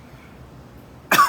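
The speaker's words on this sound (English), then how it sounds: "I don't know why I'm coughing." A woman gives a single sharp cough at the very end after a quiet moment, close to the microphone.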